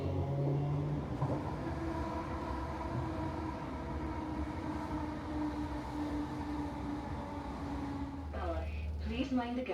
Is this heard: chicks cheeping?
no